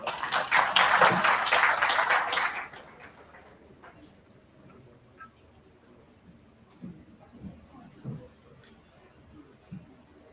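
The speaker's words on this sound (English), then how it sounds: "Please welcome sir with a round of applause." Loud applause from an audience welcoming the Vice Chancellor at a university orientation program, a dense burst of clapping for about two and a half seconds that fades into quiet room noise and faint murmurs.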